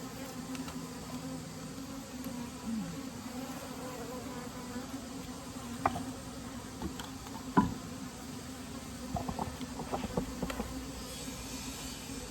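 Honey bees hum steadily around an open 24-frame Layens horizontal hive during an inspection, a low continuous buzz close by, broken by a few soft knocks and taps of frames being handled.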